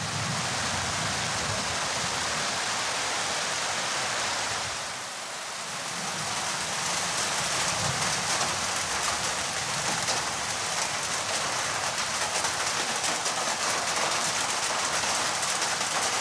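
Heavy rain falls steadily on the ground in a rural area during the rainy season, a dense, loud hiss that dips briefly partway through before resuming at full strength, with no voices.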